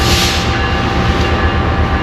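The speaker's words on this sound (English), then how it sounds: "which is the commuter train, runs up and down the coast here" A Metrolink commuter train passing along the coast, a loud, steady rolling rumble of railcars close by with continuous wheel-on-rail noise throughout.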